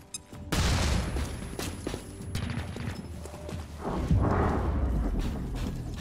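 Grenade explosion in XCOM: Chimera Squad: a loud, sudden blast near the start gives way to sustained rumbling and crackling debris noise, with a second swell of rumble later.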